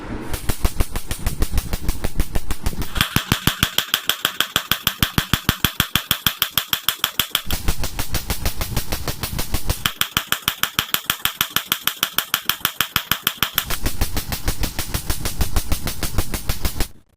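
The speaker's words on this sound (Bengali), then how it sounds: "অত্যাধুনিক সব লেজার মেশিন আমরা ইউজ করা হবে" A laser tattoo removal machine pulses in a rapid, steady rhythm of sharp clicks at close range, with higher-pitched whining stretches coming and going. It runs continuously for the full length with no talking.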